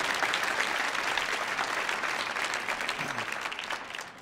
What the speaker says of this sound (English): How about a round of applause for you all?